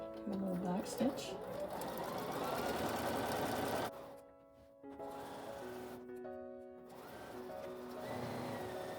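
A domestic sewing machine back stitching a simple fabric bag, running in loud steady bursts that stop and restart, with someone talking over and between the runs.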